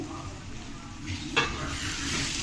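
Ingredients for an uppu chapa salted fish curry are stirred in a frying pan, a steady close sizzle with a quick scrape of the spoon midway, no talk.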